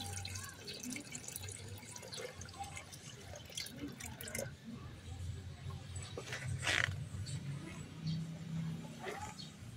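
Water trickles and drips as it is drained from a crayfish tank in a growing area, a soft, steady close trickle with scattered drips and no talking.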